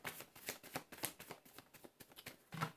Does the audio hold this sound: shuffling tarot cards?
yes